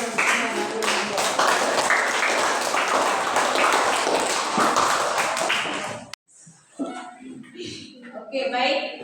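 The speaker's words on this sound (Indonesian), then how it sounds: "mari kita berikan tepuk tangan" A classroom audience claps after a group presentation, dense loud applause that stops abruptly, followed by people talking.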